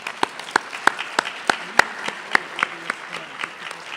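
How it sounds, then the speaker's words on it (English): An awards-night audience applauds, a moderate spread of hand claps with a few sharp, louder claps standing out, fairly close and steady for the whole stretch with no talking over it. "Let's give them a round of applause."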